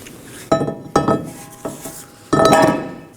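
A brake rotor clanks metallically onto the rear wheel hub of a 2018-2024 Chevrolet Equinox, four close, sharp knocks and a scrape in quick succession.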